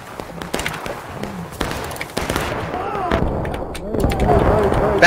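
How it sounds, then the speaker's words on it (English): Musket volleys in the Civil War video game War of Rights, with scattered sharp reports and thuds near and far over a noisy battlefield, under shouting voices. "Shoot these guys in their face while they load."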